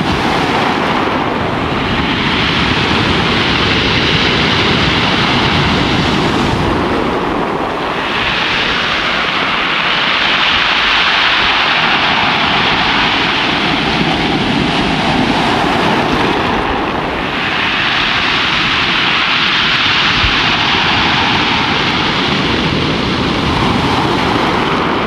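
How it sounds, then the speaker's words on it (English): Loud waves wash over a stone beach, each surge bringing a long rattling hiss of tumbling pebbles like a rain stick, repeating roughly every ten seconds. "the stone beach that sounded like a Native American rain stick"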